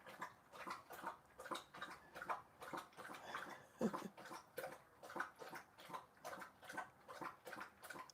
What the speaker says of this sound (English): It's Grady drinking water time.